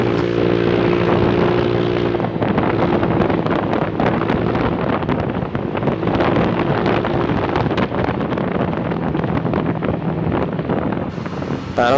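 A Honda Click 125 scooter fitted with a Hotspeed exhaust and 9g/12g flyball combination rides along a road, its engine drone heavily buffeted by loud wind noise across the microphone throughout.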